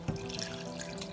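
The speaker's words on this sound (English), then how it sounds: "I'm gonna pour the rest of my water" Water is poured into a cooking pot of meat being boiled to soften it, a brief close splash followed by a faint trickle.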